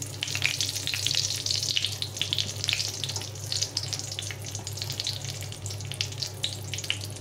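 Whole spices, dried chili and a bay leaf fry in hot oil in a pan, giving a dense, continuous sizzle with crackling spits and pops over a low steady hum.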